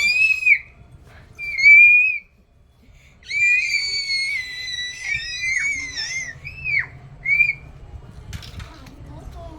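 Two children at home whistle: short high whistle blips, then a longer wavering run of shrill notes and a few more brief toots, with faint background voices.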